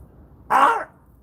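A person's voice gives a single short, harsh caw in imitation of a crow, close and clear against quiet room tone.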